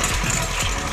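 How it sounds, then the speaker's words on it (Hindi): An engine beside a village pond, with water pouring out of it, runs at a steady idle in a dense, continuous rumble that fills the whole moment. "और आगे भी एक इंजन चल रहा है साइड में।"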